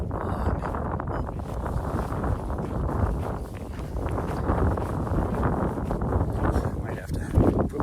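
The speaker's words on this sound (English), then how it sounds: "It is windy." Strong wind roars and buffets the microphone in continuous gusts, a heavy low rumble that swells near the end.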